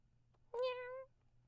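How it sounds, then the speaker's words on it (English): A single clear cat meow, drawn out and slightly falling, rises out of near silence against a faint low hum. "you hear a meow."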